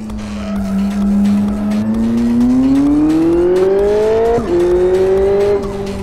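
A Ferrari in the racing simulator Live for Speed roars as its engine climbs steadily in pitch through the gears, with tire squeal and a brief shift dip, loud and close.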